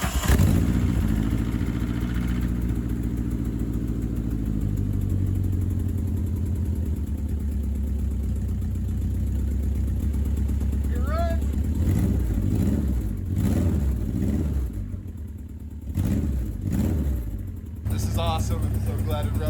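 Subaru-swapped VW Beetle engine runs steadily and close, with a loud continuous mechanical drone and a rough idle that varies slightly throughout, with brief faint clicks and a change in tone near the end.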